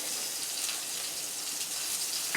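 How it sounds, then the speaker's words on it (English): Red wine gravy sauce boils in a pan, giving off a steady, close bubbling hiss with faint popping and no voices over it. "All right, this is boiling now."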